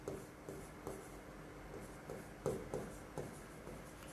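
Marker or chalk strokes on a board during a physics lecture on light, a series of short scratchy writing strokes at a steady, moderately close level, with no talking over them.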